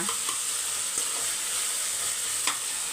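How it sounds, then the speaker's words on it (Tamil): Tomatoes and mint sizzling in a pan for biryani, a constant loud frying hiss up close with occasional stirring clicks. "தக்காளி வதங்கட்டும் புதினா கொஞ்சோண்டு போட்டுக்கோங்க"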